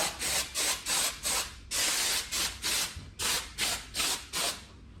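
FastCoat spray foam insulation goes onto internal walls in about a dozen rhythmic, close, hissing bursts separated by short pauses, with no talking.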